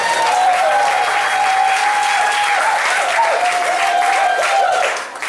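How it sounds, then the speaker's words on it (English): A crowd gives loud, dense applause for Tyrone Gardner, a deputy chief. The sustained clapping comes with a whistle or cheer on top and dips near the end. "Tyrone Gardner. Give him another round of applause"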